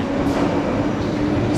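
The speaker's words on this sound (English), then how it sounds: "So, that's the train." A London train passing gives a loud, continuous, dense rumble and roar of rail noise close by, with no clear voices.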